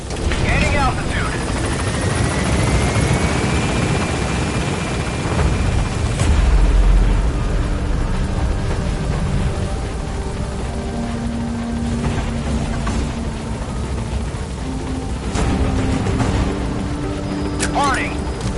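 A helicopter climbs away from a hot zone during an extraction in Metal Gear Solid V, its rotor thump and turbine whine loud and continuous, with a dull boom midway and radio voices talking over it.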